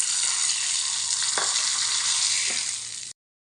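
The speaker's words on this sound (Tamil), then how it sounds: "கடுகு கருவேப்பிலை தாளிச்சாச்சு," Mustard seeds and curry leaves sizzling in hot oil as a tempering poured into black urad dal chutney, a steady loud crackling hiss with a couple of sharper pops, fading out at the end.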